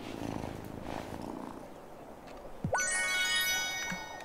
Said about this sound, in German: Listen to that purr.